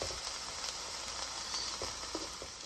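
Peppers cooking down in a pan, giving a steady, fairly quiet sizzle and hiss that runs unbroken throughout, with a few faint stirring sounds and no voices.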